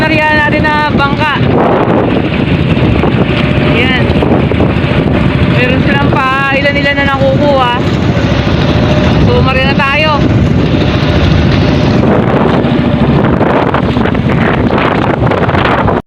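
Strong monsoon wind roars against the microphone around a fishing boat on rough sea, a loud, constant rushing that never lets up, with voices talking over it through much of the stretch.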